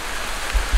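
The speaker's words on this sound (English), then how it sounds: "Really starting to rain here" Rain falling in woods near a beaver dam, a soft steady patter and hiss with a couple of low thumps near the end.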